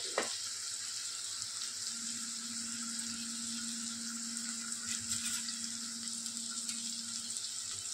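Peanuts frying steadily in hot oil for a mixed sprout pulao, a continuous close sizzle holding even loudness throughout with a faint low hum underneath.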